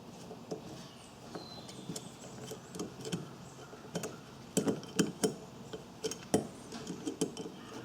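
Small engine carburetor part on an MTD riding mower being unscrewed with a 3/16 Allen wrench, a series of light metallic clicks and ticks, irregular and close, growing slightly louder toward the end.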